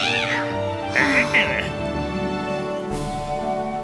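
A pet cat close by lets out a couple of short meows, from about 1 to 1.6 seconds in. They sit over steady video game music.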